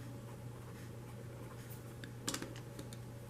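Handwriting on a surface makes soft, faint scratchy taps with a small cluster of sharper strokes near the end, heard over a low steady electrical hum.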